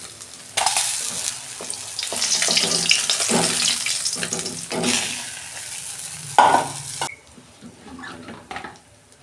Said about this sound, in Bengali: আমি প্রথমে আলুগুলো ভেজে নিচ্ছি।